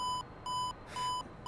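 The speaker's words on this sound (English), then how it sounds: "that's just the radar altimeter beeping at me because it thinks that I'm too low" Three short, identical electronic beeps repeat at an even pace, each a clear steady tone with a brief gap between, over a faint background hum.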